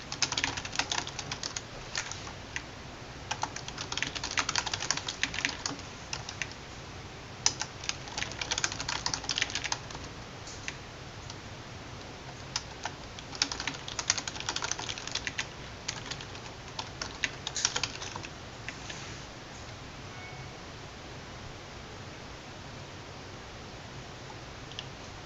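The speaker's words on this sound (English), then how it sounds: "I'm going to type out all the code first" Steady keyboard typing as code is entered on a computer, bursts of quick close clicks with short pauses, tapering off toward the end, with no talking.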